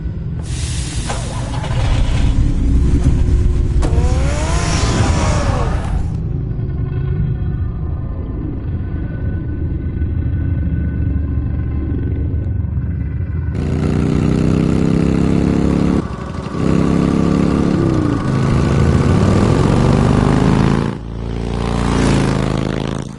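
Batman's car engine starts and runs in Batman: City of Light, a loud steady rumble with hiss, a smooth lower idle in the middle, then revving back up as it drives off.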